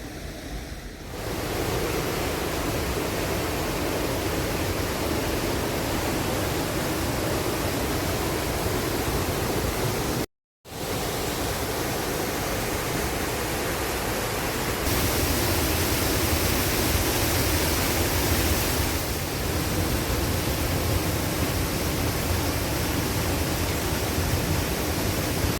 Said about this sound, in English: So that's the first set of waterfalls done. Pecker Falls.